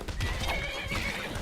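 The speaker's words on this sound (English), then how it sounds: "My horse races off into battle." A horse in Skyrim whinnies loudly and close, with hoofbeats clopping underneath throughout.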